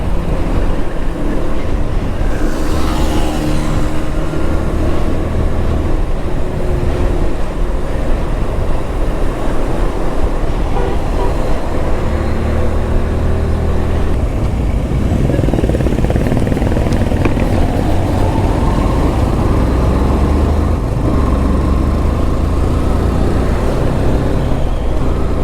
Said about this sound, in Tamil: ஊட்டி ரோட்டில் இவ்வளோ டிராஃபிக்னு பார்த்ததே இல்லை.